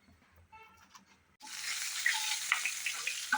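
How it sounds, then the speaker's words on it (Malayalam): Cumin seeds dropped into melted ghee for bisi bele bath burst into a loud, steady sizzle with small pops crackling through it. Before that comes a brief, quieter stretch of faint kitchen sounds. "നെയ്യൊന്ന് ഉരുകി കഴിഞ്ഞാൽ നമ്മൾക്ക് കുറച്ച് ജീരകം"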